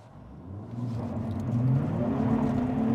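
A 2023 Nissan Z revs up hard past 3,000 RPM, its engine note rising into a loud, building rumble and whir that swells steadily from inside the cabin.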